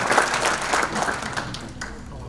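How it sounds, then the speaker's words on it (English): Audience applause honoring John Gleason at a hall of fame induction, a dense burst of clapping that fades gradually over a couple of seconds, with a voice faintly mixed in. "Let's give John a round of applause."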